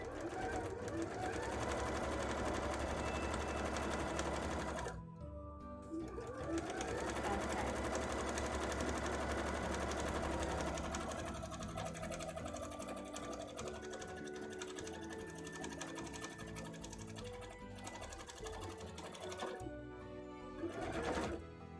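A sewing machine runs a second row of stitches along a cosplay petticoat, its steady motor whir loud and continuous, stopping briefly a few times before starting again.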